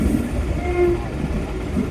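A train at a railway level crossing near Dhola station sounds a short horn tone over a low rumble of rolling cars, close and steady, with no talk.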